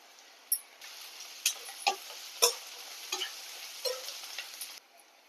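Onions sauté in hot oil for an okra tamarind curry, a steady soft sizzle broken by sharp clicks and scrapes as a utensil stirs the pan, close up, no voices.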